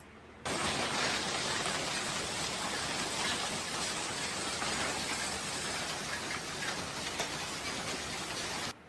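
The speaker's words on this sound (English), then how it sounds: "Well, this is a lot of hail." Hail pours down during a storm in Arizona, a dense, loud, unbroken roar that starts abruptly and holds steady for about eight seconds before cutting off, with no voices.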